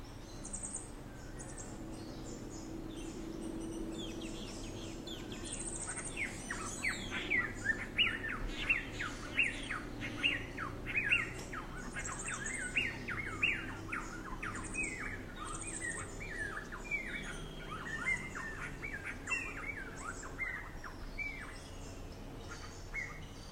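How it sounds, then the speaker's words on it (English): Birds sing and chirp outdoors: many quick, high tweets and trills from several birds, some near and some distant, over a soft steady background hush that continues throughout. "in this case the sound of the birds."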